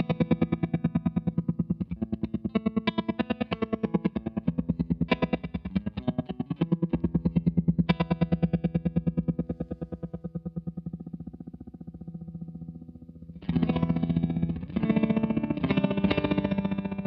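Electric guitar played through a tremolo pedal placed after a reverb, loud chords and notes pulsing with choppy, wacky modulation that keeps chopping the long reverb trails, with a few sparse pauses before strummed bursts return near the end.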